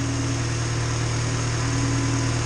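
A Honda CRX engine fitted with decapped injectors idles smoothly and steadily, a close, continuous even hum with a low, stable drone and no breaks.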